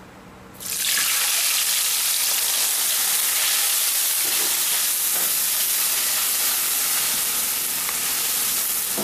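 Curry paste for mee siam frying in hot oil in a pan: a steady, loud, broadband sizzle that starts abruptly and holds evenly throughout, with no talking.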